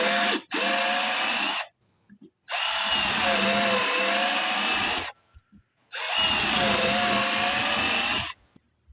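Cordless drill boring holes during a Renault 4 rear axle rebuild, three long loud whirring bursts of several seconds each separated by short pauses, close up with no talking.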